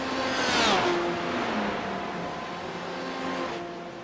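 In a racing video game, the number 33 Porsche race car's engine roars loudly past at Road Atlanta during an endurance race, its pitch climbing and then sliding down as it passes.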